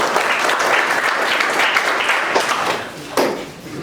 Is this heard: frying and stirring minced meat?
no